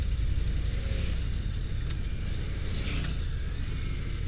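A 2023 Harley-Davidson Breakout 117 motorcycle cruises along with a constant low engine rumble and wind roar, steady and close, without talk.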